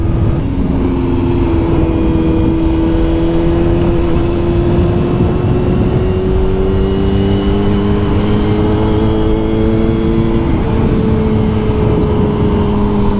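A Honda CBR250RR motorcycle on a spirited ride revs hard, its high-pitched engine whine climbing through the gears with brief dips at shifts, loud and close over steady wind rush.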